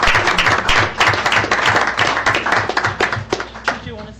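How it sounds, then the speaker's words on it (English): An audience at a school district board meeting claps, a dense burst of close hand claps lasting several seconds, with voices speaking over it. "I think we should clap."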